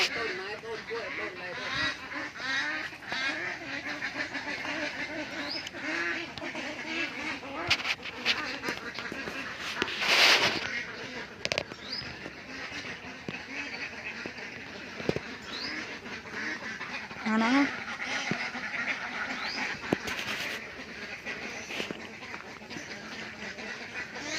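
Ducks and geese in a flooded area in Songkhla, Thailand, quack and honk repeatedly over a busy outdoor background, with people talking faintly in places.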